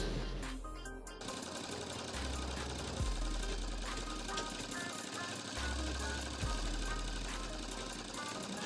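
An electric sewing machine runs almost without pause while stitching a six-panel petticoat, a fast mechanical whirr with thumping low pulses, close and fairly loud.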